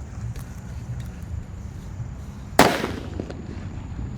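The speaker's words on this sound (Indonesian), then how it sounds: "Sudah menyala mercon Petir." One loud, close Petir firecracker blast under a covering pot cracks out midway, then rings down over a steady low background hum.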